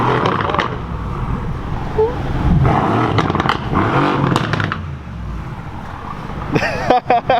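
A Mercedes-AMG C63 S with an AWE track exhaust revs aggressively in short bursts, with a deep rumble underneath and people talking over the engine noise.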